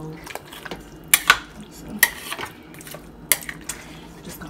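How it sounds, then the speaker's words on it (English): A utensil stirs chicken broccoli pasta in a pot, scraping and clinking against the metal with a few sharp knocks, close by, and a voice speaks briefly at the start. "So I'm just gonna mix it up real good"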